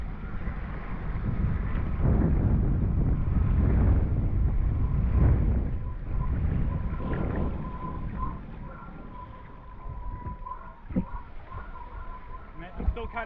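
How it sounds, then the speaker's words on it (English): Strong easterly wind buffets the microphone while sailing, a loud low rumbling roar that surges and eases, with a voice speaking through it. "Quite an easterly wind."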